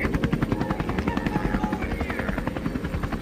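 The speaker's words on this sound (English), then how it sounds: "Lucky for us, this has 5 seats in this helicopter." A helicopter flies in the video game Mesozoic Island, its rotor beating in a steady, rapid chop with a constant engine drone, loud and close throughout, with no voices.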